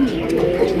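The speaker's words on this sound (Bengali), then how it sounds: "এটা একটা নর কবুতর, ডাক দেখেই বোঝা যেতেছে পুরো খেপা একটা নর" A male Spanish Gorgorio pigeon, agitated and worked up, gives a brief, low, throaty coo, up close and continuous for under a second.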